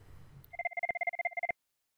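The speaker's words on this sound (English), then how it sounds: "Here are calls coming into Chloe's phone from a Halifax line and a 10-digit local Montreal number" A desk telephone in an office rings with an incoming call, a steady electronic warble of rapid repeated pulses for about a second before cutting off into silence, clear and close with no talking.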